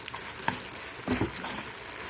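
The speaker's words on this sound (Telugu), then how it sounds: "సో పోపు బాగా వేగిపోయింది." A tempering with green chillies crackles and sizzles in an iron pan while a spoon stirs it, giving a couple of louder scraping clatters over the steady frying hiss.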